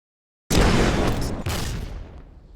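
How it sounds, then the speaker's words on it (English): A video game rocket launcher fires: a powerful explosive launch blast erupts abruptly after brief silence, followed by a roaring rushing thrust that slowly fades. "My favourite gunshot sample, however, is the rocket launcher."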